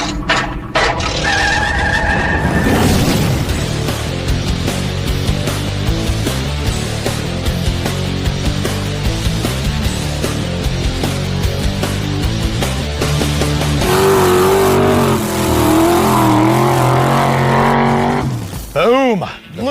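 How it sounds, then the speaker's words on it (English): Vette kart driving on two wheels, a loud, continuous engine drone that revs and rises near the end, with tire skidding and squeal, close by, while people talk over it. "We're driving on 2 wheels."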